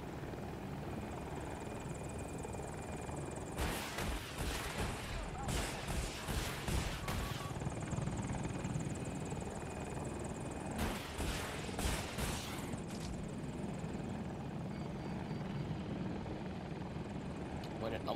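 A helicopter's rotor drone holds steady through a dogfight in the Battlefield video game, broken by two long stretches of rapid gunfire, while a voice talks over the action.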